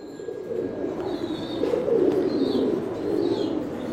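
A female grey checker Mookee pigeon coos softly in a loft, low murmuring coos rising and falling over several seconds, close and alone with faint chirps in the background.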